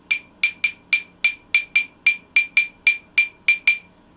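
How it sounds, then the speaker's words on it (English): The konkolo rhythm of the Yoruba people of West Africa is struck on a bright metallic percussion instrument, a steady repeating pattern of sharp clanging hits played alone and fairly close. "And konkolo sounds like this."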